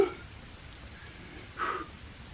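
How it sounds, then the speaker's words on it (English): Rain falls steadily at a low, hushed level, a soft continuous patter that briefly swells louder near the end before settling back. "Wash it all away like this rain here."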